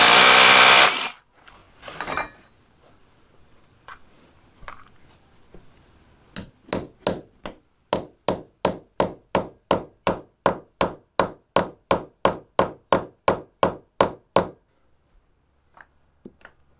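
A hammer drives in wood while bolts are fitted, striking about twenty sharp, evenly spaced blows in a steady run, close and loud, after a burst of noise and a few scattered knocks at the start.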